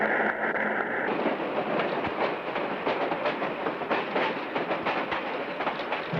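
A passenger train riding through California rumbles steadily, its wheels clacking over rail joints in a quick rhythm, loud and close with no talk over it.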